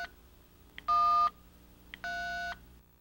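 Keypad beeps from a 1994 Motorola mobile phone as a code is entered: two separate steady electronic tones, each about half a second long and each preceded by a soft click, with quiet hiss in between.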